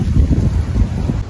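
Strong wind gusts outdoors in a garden, a loud, close roar buffeting the microphone continuously for a brief moment.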